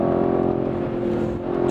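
A BMW M850i xDrive coupe's V8 engine pulls up in revs, heard as a loud, steady, tonal drone from inside the car with no talking.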